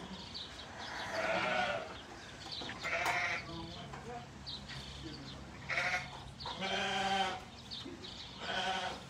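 Ten baby goats bleat repeatedly in a barn at a sheep shearing event, several overlapping high calls in bursts with quieter gaps and background rustle.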